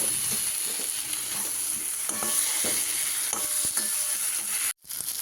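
Masala with half-cooked potatoes frying in a pan for a katla fish curry: steady close sizzling with occasional scrapes and stirring clinks, continuous until a brief drop near the end.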